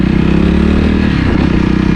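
Engine of a 2020 Jawa Perak BS6 motorcycle running on a test ride, a loud, close, steady low rumbling drone with no talk.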